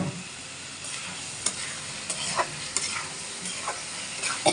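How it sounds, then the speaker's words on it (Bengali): Eggs stirred into spiced masala frying in a pan, a soft continuous sizzle broken by scraping spatula strokes and occasional light taps. "বেশি মশলা কষানো শেষ, এখন ডিম দিয়ে দিই।"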